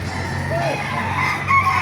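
Roosters crow amid the bustle of the Baliuag chicken market, a drawn-out cock-a-doodle-doo rising over steady crowd noise, with other birds clucking and faint voices around.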